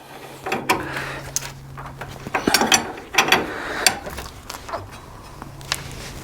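Close ratchet clicks in short irregular bursts as a bolt on a Dakota truck's replacement shock is tightened, with gaps of quiet between strokes.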